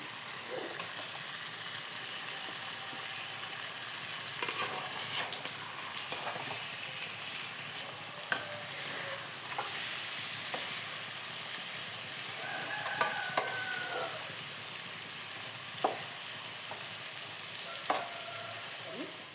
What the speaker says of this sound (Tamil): இப்போ மெதுவாக இந்த மீனெல்லாம் இந்த மாதிரி தோசை திருப்பியால் திரட்டி விட்டுக்கலாம்